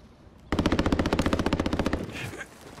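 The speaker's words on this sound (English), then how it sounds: "Oh, they're shooting right now?" Rapid automatic gunfire from Call of Duty: Modern Warfare, a loud sustained burst of evenly spaced shots lasting about a second and a half, then a few scattered fainter reports trailing off.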